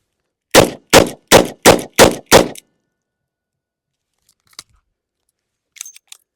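A Taurus 856 Ultra-Lite .38 Special revolver fires six rapid double-action shots loaded with hollow points, loud and close in an even rhythm, followed by quiet and a few faint clicks of handling.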